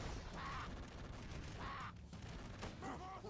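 Gunfire volley in the Broforce video game, a faint, muffled spray of shots in a few bursts under a continuous background wash.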